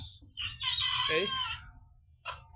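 A chicken near a freshly laid egg gives a loud drawn-out squawking cackle, followed by a shorter call, close by in a quiet outdoor setting.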